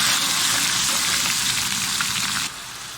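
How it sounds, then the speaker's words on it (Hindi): Garlic-ginger paste fries in a pan for haleem with a loud, dense, steady sizzle that drops noticeably quieter near the end. "अब हम इसमें डाल देंगे लहसुन अदरक का पेस्ट, इसको आधे 1 मिनट भून लेंगे"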